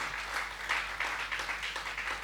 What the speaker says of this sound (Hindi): आप भी एक बार तालियां बजाइए महावीर प्रसाद मधुप जी के लिए